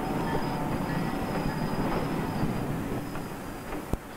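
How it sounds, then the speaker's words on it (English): A passenger train crossing the Missouri River rumbles steadily along the tracks with a broad rolling roar, faint wheel squeal, and a single sharp clank near the end. "In the afternoon, the train crosses the Missouri River."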